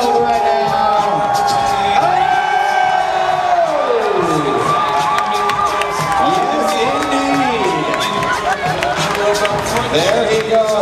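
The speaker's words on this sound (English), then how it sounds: "The crowd is going wild right now." A crowd at a belly flop contest cheers, whoops and shouts wildly in a loud, continuous roar. Individual voices yell over the noise.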